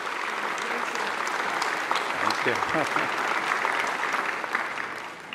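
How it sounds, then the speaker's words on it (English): An evening gathering's crowd gives a children's choir a warm, continuous round of applause, with a voice briefly speaking over the clapping. "Could we get one more round of applause for this beautiful children's choir?"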